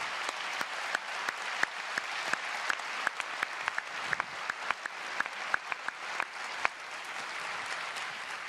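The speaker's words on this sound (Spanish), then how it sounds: "los recibiéramos con un aplauso" Applause rings out at a business summit as a panel of presidents is welcomed, a sparse, fairly quiet patter of individual claps with sharp distinct hand strikes spread across a large hall.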